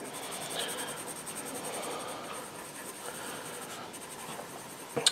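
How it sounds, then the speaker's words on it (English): Graphite pencil shading on paper for a drawing of a creature's face: close, quiet, continuous scratchy strokes with a few sharper taps at the end. "So what I'm doing right now is I'm just putting in some of the shading on her little face"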